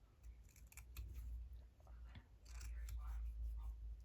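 Scissors snip through paper for a hexie tag in a few quick, close, crisp cuts. A soft voice murmurs now and then, and a low rumble runs underneath.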